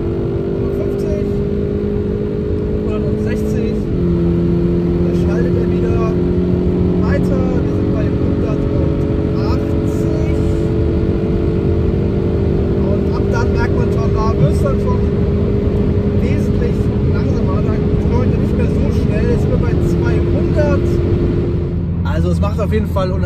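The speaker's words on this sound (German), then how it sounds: "Und jetzt geht mir einmal wieder komplett aufs Gas." A 2020 Kia ProCeed GT with its 204 PS engine pulls at full throttle from the driver's seat, a loud steady drone rising in pitch through the gears with brief shift dips, while someone talks over it.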